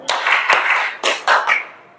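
A group claps hands together in short rhythmic bursts in a classroom. Several loud, close claps come in uneven clusters with no voices.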